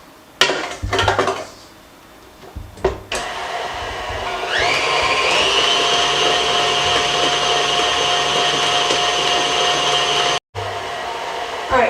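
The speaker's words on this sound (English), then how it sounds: "I'm just going to give this 1 more good whipping with the mixer" Electric mixer whipping pumpkin cookie batter in a bowl: a few knocks and clatters, then a loud steady whine that rises as the motor speeds up and runs on, briefly cutting out before resuming.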